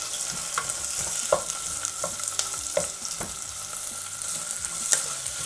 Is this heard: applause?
no